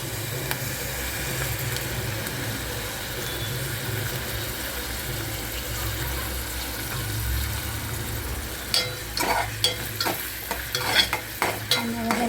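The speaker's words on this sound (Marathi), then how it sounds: "गॅस चालू केलेला आहे कांदा टाकलेला आहे पातेल्यामध्ये त्यात तेल टाकूया आपण" Onion frying in oil in a pot for a tempering, a constant loud sizzling hiss under a low hum, followed near the end by several quick scraping stirs, with no speech.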